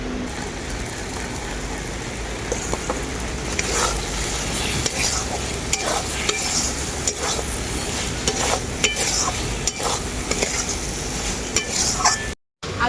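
Fried potatoes are tossed into a spice masala cooked with yogurt and cashew paste, with constant close scraping and stirring over a lively sizzle that runs on before a brief drop near the end.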